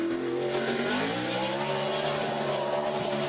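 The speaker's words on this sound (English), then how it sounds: "He's definitely getting a little more and a little more aggressive with this stock car." A stock car at speed on the Watkins Glen road course, its engine a loud, close, steady howl whose pitch bends downward and back up through a corner with no voices over it.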